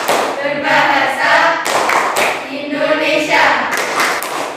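A classroom of Indonesian pupils claps through a rhythmic clap chant, steady handclaps mixed with loud group voices chanting together throughout.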